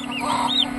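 Brief clucking and chirping from poultry, including newly hatched chicks and turkeys, with a high chick-like peep over a steady low incubator hum.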